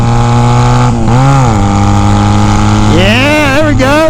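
A small motorcycle with forward controls cruises with its engine running loud and close, a steady hum whose pitch dips and then climbs as the throttle changes.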